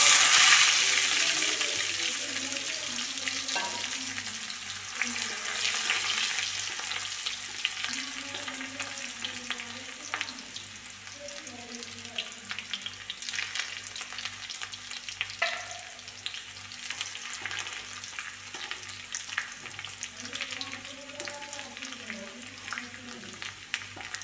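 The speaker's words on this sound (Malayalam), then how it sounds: "ചെറിയ ഉള്ളി മൊരിഞ്ഞ് വരുന്നു." Shallots fry steadily in oil, a continuous crackling sizzle with frequent small pops, close and moderately loud, fading slightly after the first few seconds.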